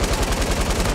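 Hand cannon gunshots in Fortnite fire in a rapid, loud burst of repeated cracks, closely spaced and near, filling the whole second.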